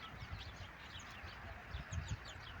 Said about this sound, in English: I'll never get over the fact that we've got parrots just wild all around us.